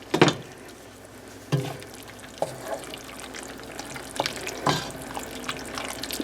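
Wet splashing and pouring of cooked noodles into a pot of chicken and vegetables in white sauce, with a few distinct plops and sloshes and a low watery rumble, nearby.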